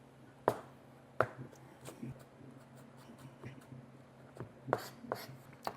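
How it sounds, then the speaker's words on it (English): A knife cuts julienned celery on a cutting board, giving a few sharp, close knocks spaced irregularly over a low steady background hum. "julienne of celery. Cut it down in half."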